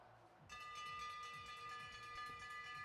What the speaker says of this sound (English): Here comes the bell.